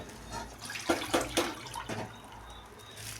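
Heated water is poured into mung dal in a pot, giving a few splashy gurgling bursts in the middle of the clip that fade to a quiet trickle against low background noise.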